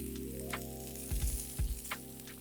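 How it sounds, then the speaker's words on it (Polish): Sliced chorizo frying in a hot pan with fat, a steady close sizzle with a few louder crackling bursts as the pieces are stirred or moved, no talk. "Na rozgrzaną patelnię wrzucamy pokrojone chorizo."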